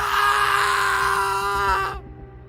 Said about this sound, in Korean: 철수의 비명과 함께 그의 몸이 시야에서 사라졌다